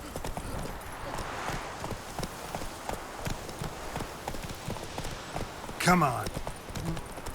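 A horse in The Witcher 3 clip-clops along at a steady pace, hoofbeats rhythmic and continuous beneath a player's talking, with a sharp burst of another sound near the end.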